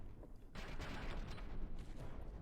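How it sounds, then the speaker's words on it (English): Mortar shells fire and land in a naval battle video game, a burst of rapid overlapping bangs and crumps breaking out suddenly after a quiet moment and rolling on as a dense, rumbling barrage. "a lot of the mortars seem actually quite close or even hitting"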